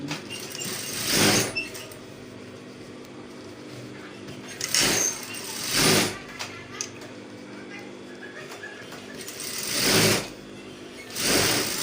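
A sewing machine stitches a corset cup seam in several short bursts of rapid mechanical chatter, each lasting about a second, separated by quiet pauses with faint handling noise.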